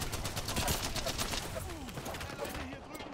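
Gunfire in the video game Apex Legends: dense, continuous rattling bursts under a loud, busy game mix, with faint voices in the background.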